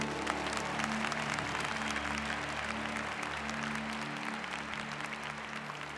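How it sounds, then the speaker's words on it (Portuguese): A church congregation at a New Year's Mass applauds steadily, a dense, even wash of clapping that carries on throughout with no pauses. "Pode aplaudir o Senhor."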